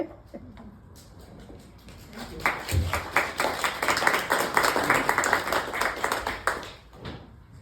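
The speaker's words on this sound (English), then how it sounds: "Forget the clapping, gang." An audience at an early Brunswick fire department gathering breaks into clapping, which starts sparse, swells into dense close applause for several seconds, then tapers off.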